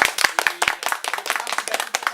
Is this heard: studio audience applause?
yes